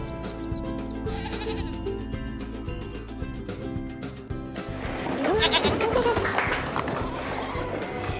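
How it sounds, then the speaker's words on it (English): A fat backyard goat gives several loud, wavering bleats in the second half, following a stretch of background music and noise, with some talking mixed in around the calls. "A fat goat's a happy goat."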